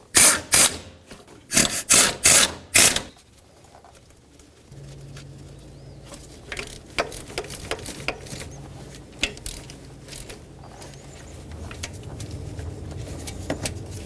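Transmission bolts being run down on a 2012-2017 Toyota Camry 2.5L, a cordless ratchet or impact tool whirring in several short loud bursts, then quieter background hum and faint clinks of tools.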